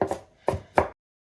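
A knife chops guacamole ingredients on a cutting board with three or four sharp, close thuds at an uneven pace, then stops into silence.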